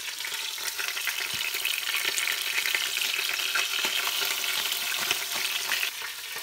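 Meat browning in a flat frying pan after being salted, a steady close, loud sizzle and crackle with scattered pops running throughout, alone without any talk.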